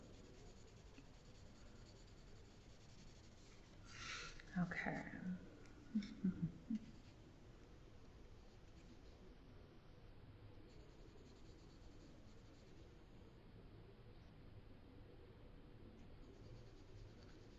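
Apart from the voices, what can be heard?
graphite pencil shading on paper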